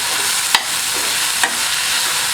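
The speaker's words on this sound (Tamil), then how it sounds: "ஒரு நிமிஷம் நல்லா ஃப்ரை ஆகட்டும்." Steady sizzling of mushroom biryani ingredients with coriander leaves frying in a pan, with two soft scraping strokes of a spoon stirring through it.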